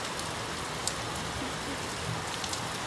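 Rain falls steadily in Dehradun as a dense, even hiss of drops striking surfaces, with a few faint scattered taps and a soft background voice now and then.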